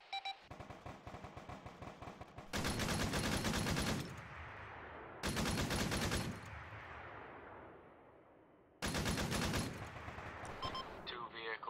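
Heavy gunfire in the military shooter Arma 3, with three loud bursts of rapid automatic fire separated by quieter stretches of lighter shooting and rumbling echo.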